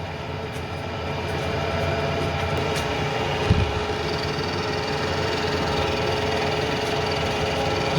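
A lathe spinning at about 1200 RPM taking light cuts on an aluminum transmission input shaft bushing: a steady, even mechanical hum with faint tonal whine and one brief soft knock midway.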